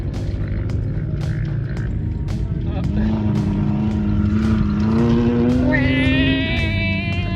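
A loud, rumbling Ford F-150 pickup truck engine (old body style) revs and drones steadily nearby, its pitch rising and falling, with a few sharp knocks and faint voices underneath.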